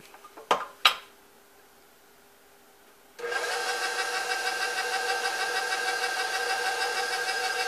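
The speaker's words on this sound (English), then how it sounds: "flour and baking soda mixture. And I want to mix that up." Flour and baking soda mixed in a bowl for chocolate chip cookies, first two sharp clinks against the bowl, a quiet pause, then a steady, loud whirring of an electric mixer running to the end.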